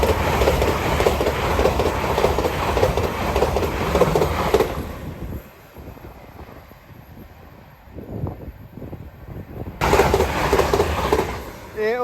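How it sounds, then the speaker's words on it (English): An LNER service from London King's Cross to Edinburgh passes a level crossing at Hett Mill with a loud, close roar of wheels and wind that briefly dips to a quieter rumble and then surges back. "Next service pass through is the LNER service from London King's Cross to Edinburgh."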